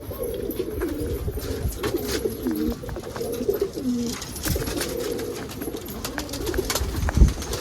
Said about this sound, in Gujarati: તમે જોઈ શકો છો સુનિલભાઈના કબૂતર.